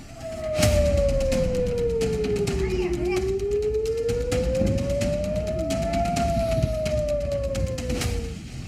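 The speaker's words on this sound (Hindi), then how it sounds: "इजराइल के तमाम शहरों में पूरी रात इजराइल के सायरन बजते रहे" An air raid siren in Israel wails, rising and falling slowly in long sweeps, loud and sustained over a low rumble and scattered background noise.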